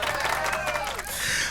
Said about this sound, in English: Let's just go ahead and let's clap it up